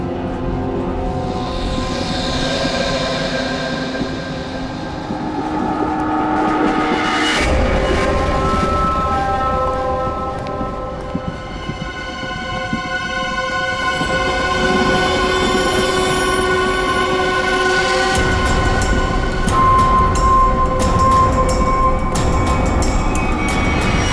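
Train moving along the line toward a tunnel, with loud sustained wheel squeal and screeching rail tones over a steady rumble that changes character midway and swells again as it goes on.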